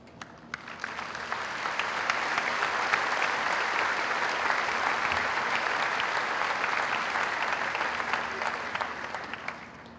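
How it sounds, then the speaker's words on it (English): Sustained audience applause fills a graduation ceremony hall as a valedictorian medallion is presented, a dense steady clapping from a large crowd that swells in and holds at full strength throughout. "the valedictorian medallion to Kelly, please join me in honoring her with a round of applause."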